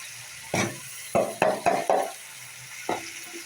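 Boiled jackfruit and potato tipped into a pan of frying spice paste, a series of short bursts of sizzling and stirring scrapes, about five close together then one more after a pause.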